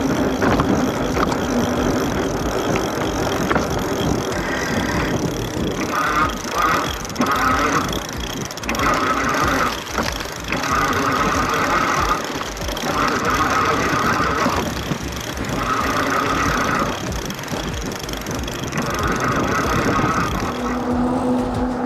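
Velotric Nomad 1 electric bike riding over sand, with a steady broadband rumble and gritty hiss of tires and motor running throughout, close and fairly loud with no talk.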